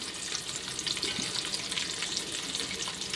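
Onions and green chillies fry in hot oil over a flame, a steady close hiss of sizzling with faint stirring clatter running throughout.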